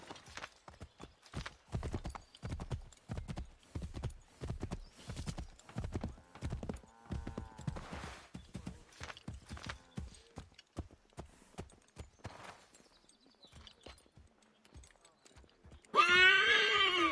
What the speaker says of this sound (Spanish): ¿y aquí no se podía llamar al caballo de alguna manera?